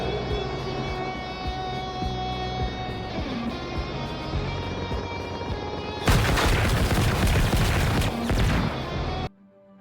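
Heavy weapons fire in the video game Generation Zero, with its grenade launcher and minigun among them: a rumbling mechanical drone gives way to a loud, sustained roar of rapid gunfire lasting a few seconds before cutting off abruptly.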